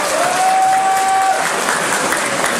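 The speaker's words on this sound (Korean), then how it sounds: "마지막 박수 한번 쳐주십시오." Steady audience applause fills a year-end gathering of a hometown association in Seoul after a congratulatory speech, a dense, continuous wash of many hands clapping at close range, with a thin whistle-like tone briefly above it.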